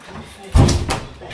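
An old door in an abandoned mansion gives a single heavy thump partway through, close and fairly loud, with people talking around it.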